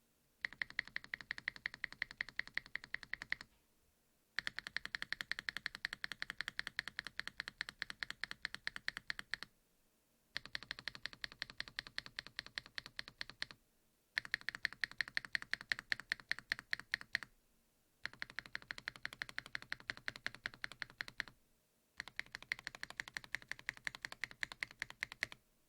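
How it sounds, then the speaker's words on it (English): Spacebar and keys of a Gopolar GG75 mechanical keyboard typed in fast, steady bursts of close, crisp clacks, five runs separated by short silent pauses, with no voices. "getting me hooked onto this keyboard is the sound of that freaking spacebar"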